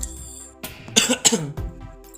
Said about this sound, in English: Sorry, I have some cough, that's why.